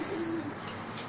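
A pigeon in a racing pigeon loft gives a single soft, brief low coo, faint against a steady background hiss.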